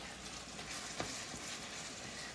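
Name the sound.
hamburger meat frying in a pan for spaghetti sauce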